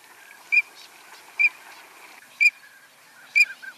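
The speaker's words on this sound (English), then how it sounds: "So here's the call of the green-winged teal." A green-winged teal gives four short, high, clear peeping calls at roughly one-second intervals, fairly close, over a faint wetland background.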